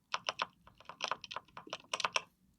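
About a dozen crisp presses of a keyboard's enter key, struck in an uneven rhythm, close up and fairly loud.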